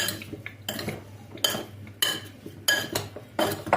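A utensil scrapes and clinks against a bowl as a sauce with garlic is mixed, in uneven strokes with short pauses between them, close and fairly loud, with no talking.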